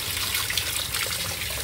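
Cold water runs steadily into a bowl for soaking blanched clams, a soft continuous trickle and splash with no talking.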